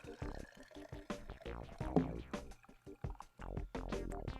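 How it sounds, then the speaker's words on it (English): Collected rainwater poured through a funnel into a rain gauge, a quiet gurgling trickle with small splashes and drips, close by and faint, alternating with a person talking. "We'll put the funnel on and pour our rain in."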